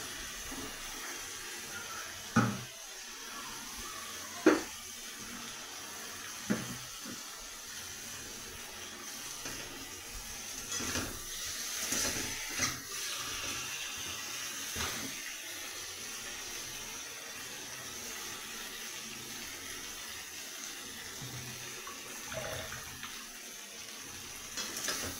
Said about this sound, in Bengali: এরপর আমি গরম জল ঢেলে দেবো।